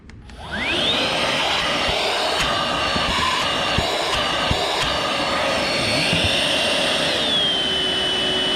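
A Ryobi One 18-volt cordless stick vacuum spins up with a rising whine, then holds a loud, steady suction roar, shifting pitch partway through as if switching power settings.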